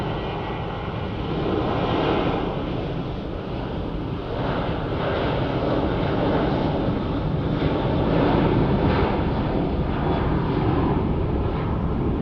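An airliner taking off at Phoenix Sky Harbor International Airport, a loud continuous jet engine roar that holds steady and swells slightly, heard from a distance outdoors with wind buffeting the microphone.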